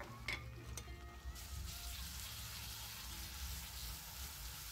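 Onions frying in a pan with ground spice paste for chicken kosha, giving a steady close sizzle with a few sharp crackles and spatters near the start. No one talks.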